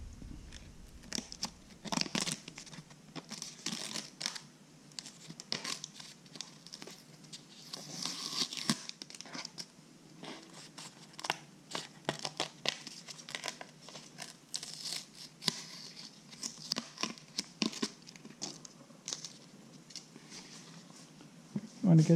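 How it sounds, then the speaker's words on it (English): Tape is peeled off a homemade sun visor cover for a Garmin Striker 4 fish finder, giving repeated close, crinkly tearing and ripping bursts throughout with short pauses between pulls. "Now we're just going to remove the tape and clean it up a bit."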